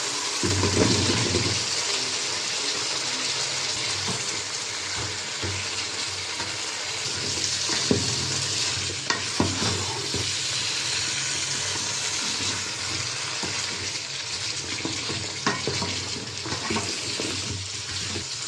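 Dried fish being sautéed with flat beans and potatoes in a pan, a steady close sizzle with faint stirring scrapes throughout, no talking.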